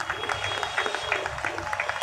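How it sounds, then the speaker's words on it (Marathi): Steady applause from a crowd, a dense patter of many hands clapping at an even level throughout. "जोरदार टाळ्यांचा गजर"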